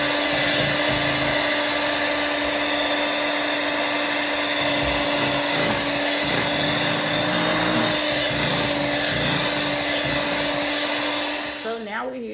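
An electric mixer whirs steadily through cake batter with a loud, constant motor drone and some scraping variation, then it winds down at the end.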